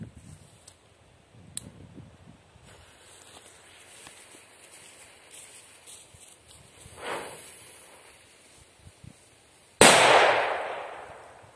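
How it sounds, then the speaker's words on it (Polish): Dragon Eggs NSCR01 firecrackers explode outdoors: a couple of sharp cracks early, a louder bang near the middle, then one big close blast that rings out with a long echo tail. "Świetne petardy."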